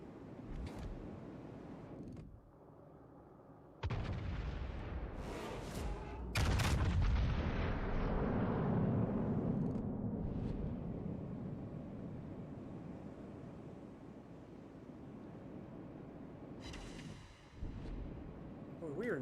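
Naval guns fire salvos in a warship video game: a few heavy, booming blasts that each roll into a long rumbling wash over constant wind-like sea noise, with a voice talking at times.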